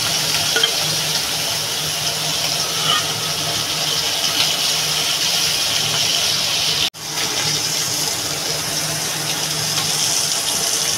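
Pabda fish frying in hot oil in a kadai, a continuous close hiss and crackle that holds steady for the whole stretch, with one brief break partway through.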